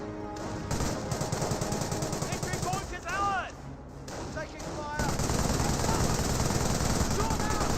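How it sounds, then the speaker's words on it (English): Rifle and small-arms gunfire in the Company of Heroes real-time strategy game, steady rapid battle shots throughout, with a brief lull in the middle and heavier fire toward the end. "Rifleman is shooting back"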